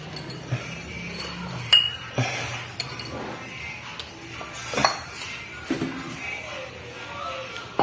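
Glass bottles clinking while being handled during house painting, scattered sharp clinks and taps at irregular intervals, fairly faint, over a quiet background with occasional low voices.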